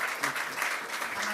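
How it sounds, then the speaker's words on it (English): An audience at a London 2024 talk event applauds the speakers, a brief burst of dense, close clapping with faint voices mixed underneath. "We're going to maybe applaud them"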